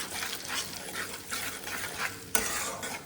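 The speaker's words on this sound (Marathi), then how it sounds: "पूर्ण असं मिक्स करून घेतलं." A spoon stirs a spice masala of chilli powder, turmeric and coriander powder in a pan for a vegetable dish, giving steady close scraping and faint sizzling, with a sharper clack of the utensil near the end.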